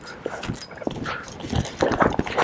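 A soft-natured dog offered for sale whimpers and whines in short, uneven bursts close by. Faint outdoor noise sits underneath.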